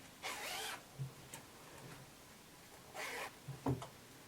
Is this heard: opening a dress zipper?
yes